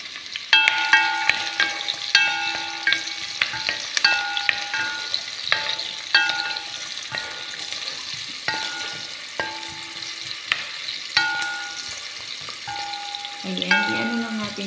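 Onion fries in a nearly dry pan with a steady soft sizzle, broken by repeated scraping and clinking strokes of a utensil stirring against the pan, all close and fairly quiet.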